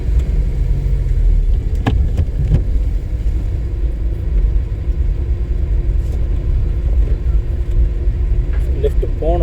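A car engine rumbles steadily in second gear during a driving lesson, a constant low drone that fills the whole stretch, with faint knocks and a voice murmuring in the cabin.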